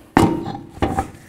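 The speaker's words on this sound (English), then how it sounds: "Let's get our wheel up on here." Two solid thunks with a slight metallic ring as a car wheel is set onto the hub during front inner tie rod work on a 2007-12 Dodge Caliber, close and distinct with a short gap between them.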